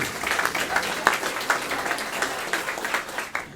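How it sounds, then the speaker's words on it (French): Applause from an audience at a ceremony marking the 75th anniversary of the Quebec flag, a steady dense patter of many hands with a few sharper claps standing out, moderately distant and continuous throughout. "On l'applaudit."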